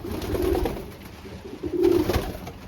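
A blue bar racing pigeon coos close by in low, throaty rolling calls, two main phrases separated by a brief pause.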